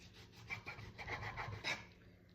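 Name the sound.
knife cutting through bacon with a sawing motion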